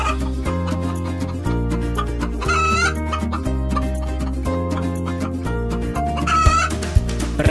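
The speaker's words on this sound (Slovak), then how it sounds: "Sliepočka, sliepočka, ako robíš? Kotkotá, kotkotá," A hen clucks in short bursts from a Slovak children's song, set against a bouncy musical backing with a steady beat and no talk.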